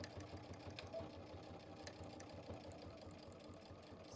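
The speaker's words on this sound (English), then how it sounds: "So I am going to back stitch over my tags as well." A sewing machine back stitches over tags on a thick quilted backpack, a quiet, steady low hum with a faint regular pulse of the needle throughout.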